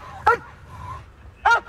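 A police dog gives two sharp, close barks about a second apart, loud against a quiet low background, with a faint whine between them.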